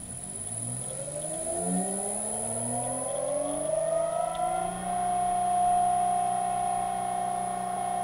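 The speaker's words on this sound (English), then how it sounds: "the motor's going to run just a little bit faster than standard mains." An electric motor driven by an AT1 inverter spins up to about 62.4 Hz, its whine rising in pitch over several seconds and then holding a steady hum alongside a constant high electronic tone.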